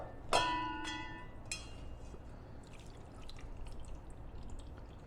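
Orange juice and pulp are strained through a kitchen strainer into a bowl, opening with a bright clink and then soft dripping and trickling liquid that fades to quiet splashes.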